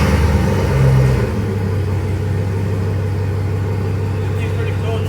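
A 2003 Chevy Silverado's engine idles steadily after a Viper remote start, a low continuous rumble close by, with a brief louder surge at the start before it settles.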